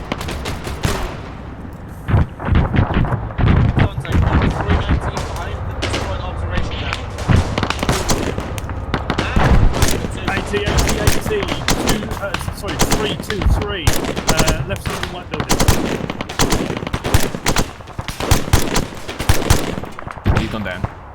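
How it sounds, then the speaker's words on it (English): Rapid automatic gunfire from the military shooter ArmA 3, dense bursts of machine-gun fire and scattered shots cracking continuously, loud and close, with people talking over the combat. "We're still receiving fire from somewhere."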